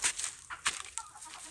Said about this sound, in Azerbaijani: toyuqların çoxu bax buradadır